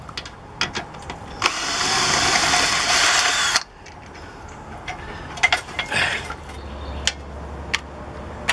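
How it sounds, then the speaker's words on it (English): A power drill whirs steadily for about two seconds, then stops, followed by scattered clicks and clatter of tools nearby. "and then we go for the power tools."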